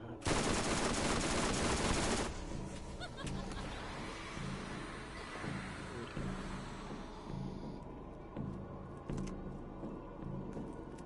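Gunfire in Borderlands, a loud dense burst of rapid shots at the start that gives way to scattered, quieter shots and engine-like rumble, with occasional sharp reports continuing throughout.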